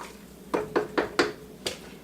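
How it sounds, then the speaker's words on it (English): Ingredients for tortilla soup are stirred in a pot, and a utensil knocks against the pot in five sharp, evenly spaced clinks, close and clear over quiet background. "Give them a little stir."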